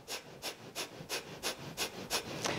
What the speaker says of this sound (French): Donc, on va ajouter la respiration du feu, je vous la montre.